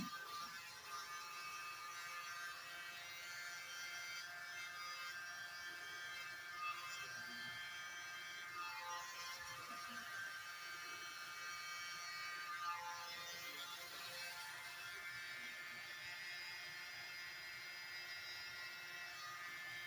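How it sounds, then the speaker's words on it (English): A mini blower runs with a steady, faint high-pitched electric whir, droning evenly and alone throughout while used on an acrylic Dutch pour painting on a 20x20 inch canvas. "I love my mini blower"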